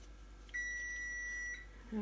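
An oven shutting off lets out one steady electronic beep that holds for about a second, then a short lower tone follows in a quiet kitchen.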